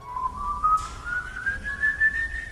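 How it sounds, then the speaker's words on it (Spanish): A person whistles one steady, rising tone at night in the Appalachian woods, clear and fairly close, alone over faint background hiss, with a short breathy puff partway through. "hasta que escuchó el primer silbido"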